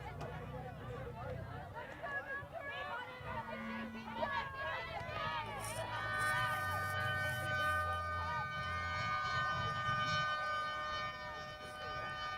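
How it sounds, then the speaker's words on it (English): A long, wailing end-of-game siren rises and holds over a noisy crowd at a women's ultimate frisbee match, with voices chattering and cheering throughout. "we are hearing that, that 80-minute siren sound"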